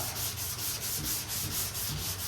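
Sandpaper on a sanding block rubbing back and forth over body filler on a car panel, a steady close scraping hiss in repeated even strokes, alone without talk.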